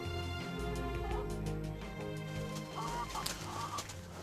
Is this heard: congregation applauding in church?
no